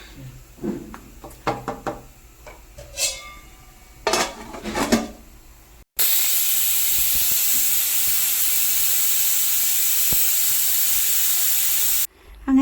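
A pressure cooker lets out a loud, continuous hiss of steam lasting about six seconds, preceded by clinking and knocking of pots and utensils in a kitchen.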